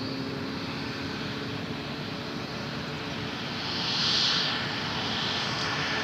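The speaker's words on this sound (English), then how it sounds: "look at our Southwest Max that's taxiing out" A Southwest Boeing 737 Max taxiing out at Cleveland Hopkins makes a steady jet engine rumble, and a whining swell builds briefly near the end before easing off.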